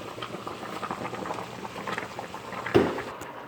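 A pot of water boiling with pasta for pasta with broccoli rabe, a close, steady bubbling and gurgling with a louder splash near the end, heard without talk.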